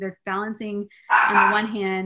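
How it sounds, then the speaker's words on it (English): A dog barks several times in short, close bursts, overlapping a person talking nearby. "I apologize for the barking dog."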